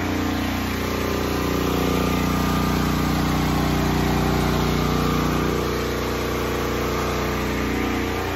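A DuraMax 12000-watt dual-fuel, electric-start portable generator runs at home, giving a steady, loud engine drone with a constant low hum that holds unchanged from start to finish, with no talking.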